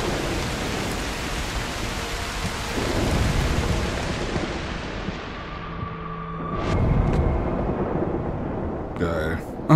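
Thunderstorm in the Broken Pieces video game: steady heavy rain hisses throughout as low rolling thunder swells twice, ending on a brief, sharper crack.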